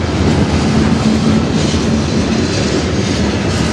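A CN train rolls past close by in Sarnia, Ontario, heading toward the tunnel to Michigan, a loud, unbroken rumble of wheels and cars with a faint tonal hum running through it.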